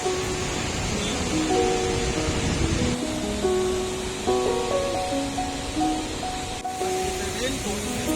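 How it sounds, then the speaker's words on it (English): Victoria Falls (Mosi-oa-Tunya) in Zimbabwe roars as a steady, dense wash of rushing water heard from a viewpoint. Voices talk over the constant noise. "You see the waterfall?"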